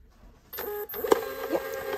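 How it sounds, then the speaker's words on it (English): A MUNBYN P130 desktop shipping label printer feeding out a label: a short mechanical whir starting after a quiet moment, with a brief pause, small clicks and a faint high whine, close and without talk. "let me show you guys how quickly it prints out"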